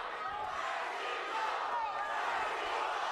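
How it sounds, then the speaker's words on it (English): A boxing crowd yells and roars in a continuous, fairly distant wash of noise during a fight, with a commentator's voice talking over it. "You hear the crowd yelling,"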